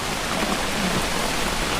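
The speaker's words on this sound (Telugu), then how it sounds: "వర్షం రేవుడే రేవుడు" Heavy rain pours steadily on a camp in a cashew orchard at night, a dense, loud, unbroken hiss with no pauses.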